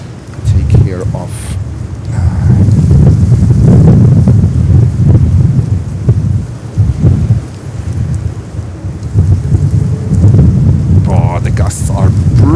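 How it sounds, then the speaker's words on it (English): Strong wind gusts sweep across JFK airport, a loud, rumbling roar that surges and eases in waves with heavy buffeting against the microphone. "Oh, the gusts are brutal."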